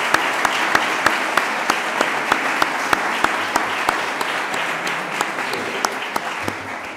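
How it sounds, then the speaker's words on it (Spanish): Steady audience applause fills a presentation event for a flamenco song festival poster, a dense sustained patter of many hands with a few sharper claps standing out, loud and continuous with no talking. "pediría un fuerte aplauso para ella"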